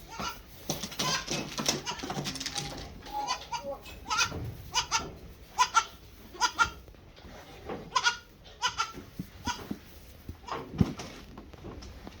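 Goats on a farm bleat repeatedly, several close, loud calls in irregular bursts with shuffling and quieter noise between them and no talk.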